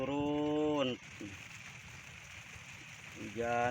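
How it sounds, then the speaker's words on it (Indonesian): Steady rain patters at a fishing spot on the Cirata reservoir, a broad even hiss through the middle, with a loud tonal sound before and after it. "Hujan turun hujan"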